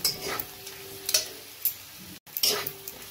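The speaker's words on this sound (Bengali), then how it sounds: "লঙ্কার গুঁড়ো আর জিরের গুঁড়োটা ভালো করে মিশিয়ে নেব।" Kashmiri chili powder and roasted cumin powder are stirred into kudri vegetables in a pan, with soft scrapes and clinks of a spoon over a faint sizzle. The strokes come at an uneven, unhurried pace, close up and quiet.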